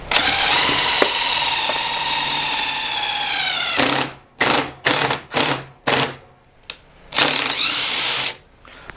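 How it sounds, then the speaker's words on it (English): A cordless drill drives pocket-hole screws into wood, its clutch engaging: a steady high motor whine for about four seconds, then a series of short, sharp bursts as the clutch slips and the screws seat, close and loud. "I don't know why the clutch is engaging, but it is."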